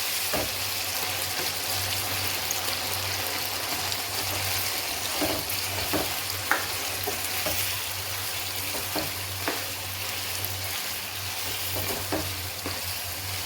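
Aloo bukhara chicken sizzling and frying in a pan while being stirred: a constant loud hiss with a low hum beneath and intermittent scraping and clinking strokes, close up, no talking.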